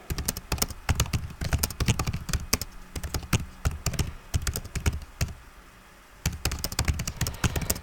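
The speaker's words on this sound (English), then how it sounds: "So let's type some text." Fingers typing text on a computer keyboard, a quick irregular run of close, crisp key clicks and taps with a brief pause near the end, no speech.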